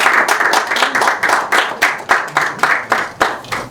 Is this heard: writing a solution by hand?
no